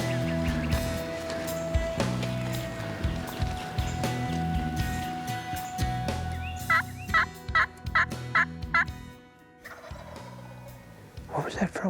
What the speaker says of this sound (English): That bird gobbled all the way over across the road, like 400 yards.